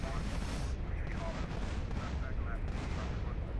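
Dense, rumbling explosive blasts and firing from an RPG rocket launcher in Grand Theft Auto: San Andreas form a loud, continuous wash of booming noise that fills the whole stretch, with voices faintly mixed in.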